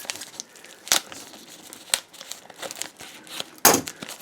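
Plastic packaging on a supermarket pizza crinkles and tears open, with sharp crackling bursts scattered among softer rustling, close up and without talk.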